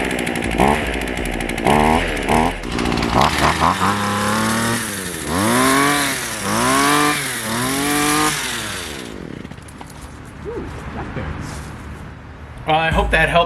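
A small engine, chainsaw-like, sputters through several short pull-start bursts before catching, then revs up and down in rising and falling surges while cold on choke, dropping to a quieter idle near the end; a voice speaks between runs.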